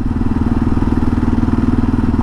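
A 2022 Kawasaki KLR650 single-cylinder motorcycle cruises along a curvy Utah desert road, its steady, loud, close engine thrumming with a rapid, even pulse throughout.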